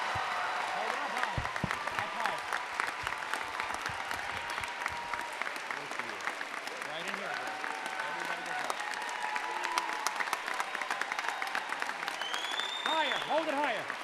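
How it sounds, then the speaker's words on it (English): A standing crowd at a staff sergeant's kick-off ceremony gives a sustained round of applause, crisp claps throughout with scattered voices and cheers mixed in. "Please stand and give a round of applause to show our appreciation to Staff Sergeant Ben Eberle."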